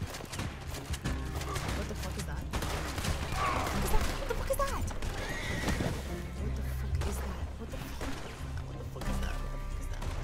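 A horse in the Red Dead Online video game whinnies loudly amid clip-clopping hooves and crashing effects, with a person talking over the game sounds.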